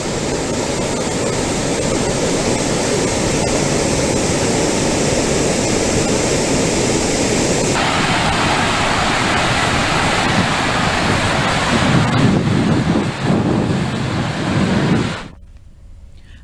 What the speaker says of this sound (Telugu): 17 గేట్ల ద్వారా నీటిని కిందకు వదిలేస్తున్నారు.